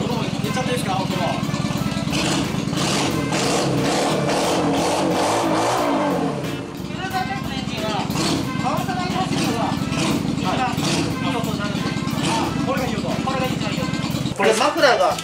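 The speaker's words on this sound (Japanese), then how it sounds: "ちょっとエンジンかけていいですか" A motorcycle with twin separate mufflers starts and runs, its steady, loud mid-range exhaust note resonating continuously under excited conversation, with a brief dip around the middle and a rev near the end.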